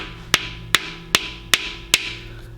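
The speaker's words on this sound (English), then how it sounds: "So we just very carefully hammer it in place." Rear main seal being hammered into place on a Mazda MX-5 Miata engine, five sharp, evenly spaced metallic taps about 0.4 seconds apart, close and crisp.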